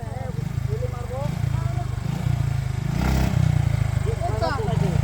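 A Suzuki Gixxer Monotone motorcycle engine runs with a steady low throbbing note that swells briefly as it revs for a wheelie, heard close while people talk over it.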